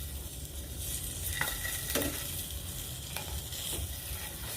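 Longganisa sausage fries in its own fat in a pan, giving a continuous close sizzle with a few sharp clacks of a spatula stirring and turning the pieces.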